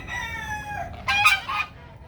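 A partridge silkie rooster on a farm crows once, a near, loud, wavering cock-a-doodle-doo that rises in a strained burst toward the end and then trails off.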